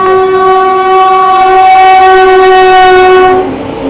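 A Lucknow–New Delhi Tejas Express overtakes the Gomti Express: a loud, close, sustained multi-tone train horn blares for about three and a half seconds before cutting off into rumbling rail noise.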